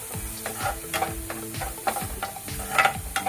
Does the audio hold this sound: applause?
no